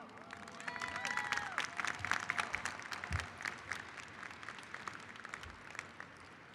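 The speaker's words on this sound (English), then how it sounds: "let's give ourselves a round of applause for even making it this far" At a 2022 Seguin High School graduation ceremony, a large audience claps steadily throughout, heard at moderate distance with a few scattered cheers mixed in.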